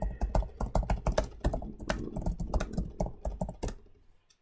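Rapid typing on a computer keyboard, a dense run of close, crisp keystroke clicks for about four seconds before stopping.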